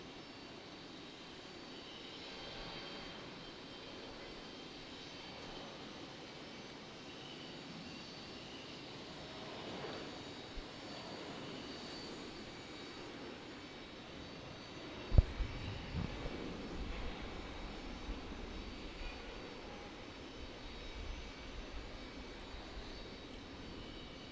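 An airliner landing on the runway at Raleigh-Durham airport, heard as a steady, fairly distant jet engine roar that grows slightly louder with a brief thump midway, with no talk.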